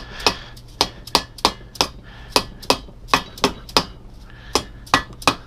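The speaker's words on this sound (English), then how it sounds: "Just hammering on this flat surface here." Sharp metallic hammer blows ring out on a flat surface during reassembly of a Suzuki GS650G engine, with about fifteen close, distinct strikes at an uneven tapping rhythm.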